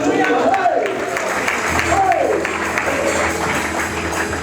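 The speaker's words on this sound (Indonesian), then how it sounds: "Kasih tepuk tangan." A church congregation at a sermon gives a round of clapping, with a busy layer of hands under voices and a speaker talking throughout.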